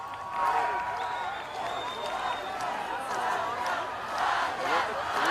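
An excited crowd cheering at a rally in Republic Square, Yerevan, a sustained roar of many voices outdoors with swelling shouts and some clapping mixed in.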